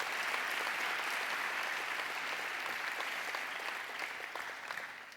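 Church congregation applauding during an evening praise service: dense, sustained clapping from many hands at a steady level that eases off slightly toward the end.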